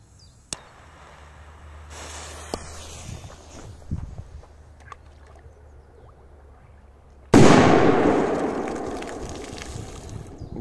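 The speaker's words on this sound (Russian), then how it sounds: "Так взорвалась петарда. Очень мощная." A large Furor firecracker goes off near a lake shore with one sudden, very loud blast that decays slowly into a long rumbling tail. It comes after quiet outdoor ambience with a few small clicks and footsteps.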